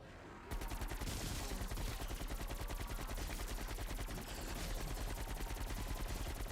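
Rapid, continuous gunfire from a Call of Duty Zombies game, loud dense automatic shots pounding without pause after a brief quiet start.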